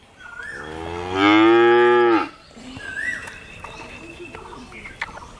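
An 11-month-old Holstein Friesian hybrid calf lets out one loud, close, drawn-out moo, followed by quieter ambient noise and faint distant sounds.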